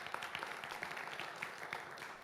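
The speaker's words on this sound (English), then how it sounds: "give her a round of applause" Applause from an audience at a live-streamed Nordic Street event in a concert hall, welcoming the next speaker onstage: fairly faint, steady dense clapping that runs throughout without pause.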